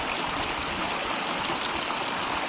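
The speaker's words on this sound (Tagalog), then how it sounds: "nakikita ko na guys, yung Sampaloc Falls." Sampaloc Falls in Siniloan, Laguna, pours as a steady, dense rush of water, an even roar that holds without a break throughout.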